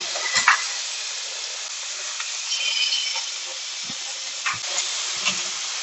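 Potatoes frying in hot oil for fish and chips, a steady crackling sizzle and hiss with a few soft clinks and stirring bumps, close and continuous with no speech.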